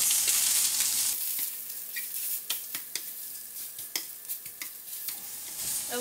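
Sausage browns in a pan with a steady broadband sizzle that settles down, broken by several sharp clicks and scrapes of stirring, with no talk.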